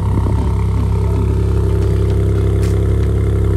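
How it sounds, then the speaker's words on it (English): A Ford Fiesta ST engine running steadily at a low idle, a constant deep rumble with slight clatter, close and fairly loud throughout. "Not a bad sounding car."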